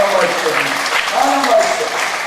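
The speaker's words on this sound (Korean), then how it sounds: "그렇게 하신 주님 앞에 우리 박수로 좀 경배하겠습니다." A church congregation claps in praise during a Wednesday worship service, a steady broadband patter of many hands lasting a couple of seconds, with a voice and faint tonal sounds running underneath.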